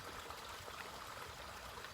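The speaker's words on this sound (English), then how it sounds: "It's more like a stream than a brook." A small stream runs steadily nearby, a soft even rush of flowing water, faint and continuous, with no other sounds.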